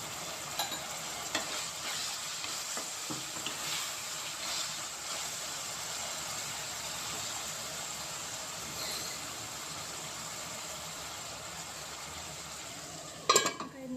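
Drumstick pieces, cut small, frying in oil for a curry: a steady hiss and sizzle with a few light stirring knocks early on and a sharp clatter right at the end.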